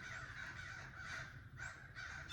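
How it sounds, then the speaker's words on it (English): Repeated harsh crow caws, several overlapping calls in bursts, moderately distant against steady outdoor background noise. "Man, these birds are going crazy."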